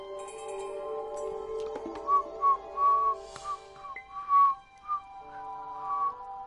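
A person whistles a short, wavering tune in a string of brief, breathy notes during a Terraria game livestream, with steady background music underneath.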